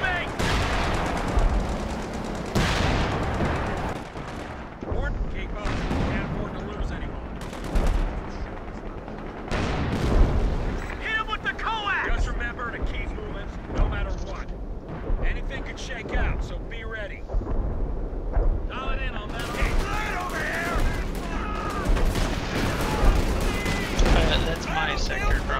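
Artillery barrage in Company of Heroes 2, a busy stretch of repeated heavy booms and crackling blasts that keep coming for the whole span, loud and dense, with voices talking over the battle noise.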